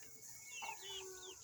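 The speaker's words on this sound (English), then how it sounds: "Here's my giant fat chicken, Pepper." A backyard chicken clucks softly with a few short, rising and falling calls over faint background noise, close to the microphone.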